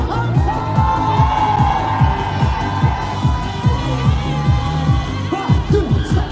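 A festival crowd of young fans cheers and shouts at an outdoor apple festival stage, with loud, sustained massed voices and rhythmic chant-like bursts carrying over music.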